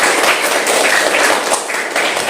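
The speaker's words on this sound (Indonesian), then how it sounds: "Tepuk tangan buat kita semua" A classroom of students claps together in a dense, steady burst of applause lasting a couple of seconds, close and fairly loud.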